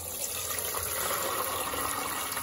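Hot water pouring off boiled noodles through a sieve into a pot below, a continuous close gushing splash of liquid with no one speaking.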